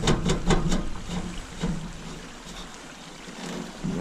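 The engine of a Struck Magnatrac RS1000 compact track loader cranks with a rapid rhythmic chugging at first, then settles into a rougher, uneven churning.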